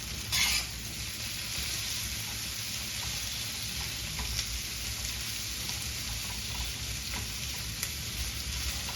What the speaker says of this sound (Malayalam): ഇനി ഇതെല്ലാം നന്നായിട്ട് ഇതൊന്ന് മിക്സ് ചെയ്യാം.